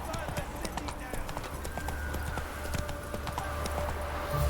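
Hoofbeats of Roach, Geralt's horse in The Witcher video game, clip-clopping at a steady run through a burning city, loud and continuous under game music and voices.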